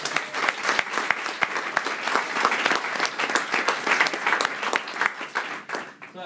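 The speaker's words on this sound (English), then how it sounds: "Round of applause," A conference audience at a Drupal event claps for several seconds, a dense, close burst of applause that stays fairly even before tapering at the end.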